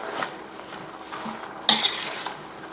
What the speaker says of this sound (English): Now, I'll start stirring this around.